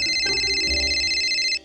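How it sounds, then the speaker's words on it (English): A mobile phone rings with a loud, steady electronic tone, a sustained beeping pattern that holds throughout before cutting off at the end, with no talk over it. "sorry, that's my phone."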